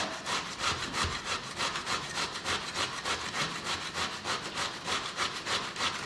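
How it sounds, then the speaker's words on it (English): A small handheld grater scrapes zucchini in steady, rapid back-and-forth strokes, a continuous rhythmic rasping that stays close and moderately loud with no talking. "this is a smaller little handheld grater, so it'll take just a minute"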